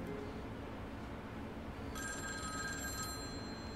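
A telephone rings in the video game A Sky Full of Stars, a bright electronic trill about a second long sitting faintly over a steady low background hum.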